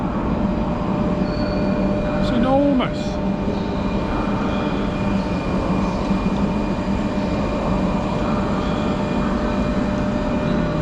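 Echoing rumble of a large domed train hall in Prague, Czechia, with a brief squeal of rail wheels and a voice speaking briefly over the constant background din.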